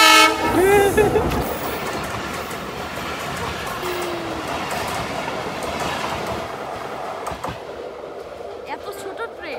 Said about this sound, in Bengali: ওই দেখো ট্রেন, লোকাল ট্রেন না